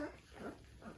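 A two-week-old Rhodesian Ridgeback puppy gives soft, faint whimpers, a couple of brief high cries across one second.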